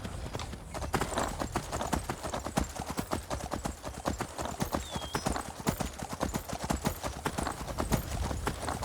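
Horse hooves clip-clop at a steady trot in Skyrim, a dense rhythmic run of close, even hoofbeats over a continuous outdoor game ambience throughout.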